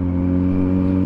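A smooth Kawasaki Z900 inline-four motorcycle engine hums steadily nearby, a constant mid-pitched drone with no change in revs over a short moment.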